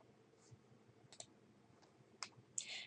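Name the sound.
mouse click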